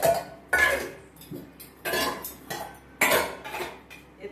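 Washed dishes and utensils being set back in their places, with clattering metal and ceramic knocks in three loud bursts and quieter clinks between, close by with no talk.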